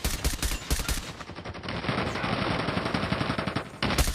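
Rapid automatic gunfire in a Call of Duty match, a dense, loud burst of fast repeated shots that runs almost without a break and then resumes after a short gap, with no talking.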